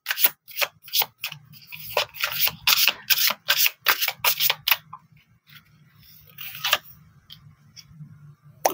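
Tarot cards being shuffled by hand in quick bursts of riffling and rubbing, close and crisp, with a steady low hum underneath and quieter handling toward the end.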